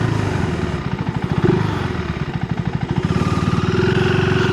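A 2025 KTM 390 Enduro R single-cylinder engine idles with a rough, uneven pulsing beat, stumbling and nearly flaming out as the idle sags, loud and close with no talking.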